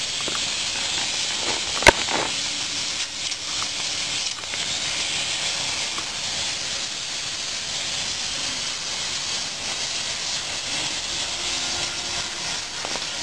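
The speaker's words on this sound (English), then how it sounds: "he's using a torch to solder the tanks onto the cork" A torch hisses steadily while radiator tanks are soldered onto the core with flux, a constant broad rushing close by with one sharp click near the start.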